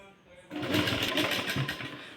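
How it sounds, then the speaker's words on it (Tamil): A sewing machine stitches a blouse sleeve, starting abruptly after a quiet moment and then whirring steadily and fairly loudly at close range. "அதுக்காக நான் ரெண்டாவது ஸ்டிச்சு போடுறேன்"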